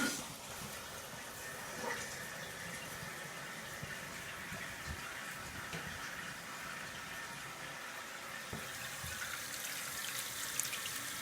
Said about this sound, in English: Everything is filling up the tank as it should.